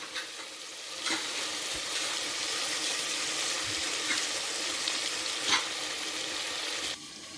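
Chicken for pulao cooking under a lid, giving a steady close sizzle and bubbling hiss with a few stirring scrapes and clinks over several seconds.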